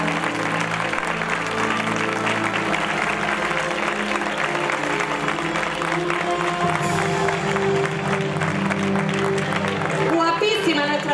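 Crowd at the Facinas fair coronation of 2014 clapping for its new queen, sustained dense applause running without a break, with some cheering and a voice rising near the end.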